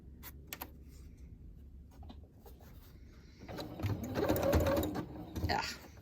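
A sewing machine stitches through a writing board for a summer journal. A few clicks and handling noises come first, then a close, buzzing run of stitching builds and trails off near the end, with brief talking at the start.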